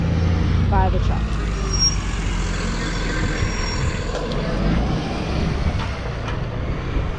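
Heavy truck rumbling past on a town road, a loud continuous low roar with hissing traffic noise that stays close for several seconds, with a person talking over it.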